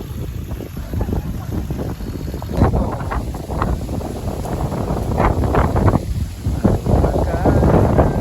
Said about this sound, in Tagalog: Hangin, ang sarap.